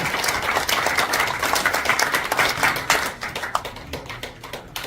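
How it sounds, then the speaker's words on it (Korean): An audience applauds steadily at an award ceremony where film director Lee Jang-ho receives an encouragement award, dense continuous clapping that thins slightly toward the end, with no voices. "박수 부탁드립니다."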